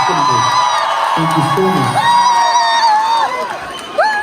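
A concert crowd at a band's 25th anniversary show in Hong Kong cheers with loud whoops, whistles and a wash of applause, while a voice on the microphone speaks over the noise.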